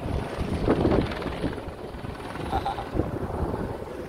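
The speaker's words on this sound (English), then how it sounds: "we just had a helicopter arrival." A helicopter arriving at an airstrip in St. Lucia, a steady rotor and engine rumble that swells around the first second and again near the third, sounding fairly close, with faint voices underneath.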